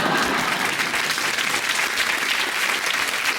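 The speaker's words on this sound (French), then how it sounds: "Ça s'applaudit." An audience applauds in a television studio, a dense, loud burst of clapping that holds steady throughout, with no voices standing out.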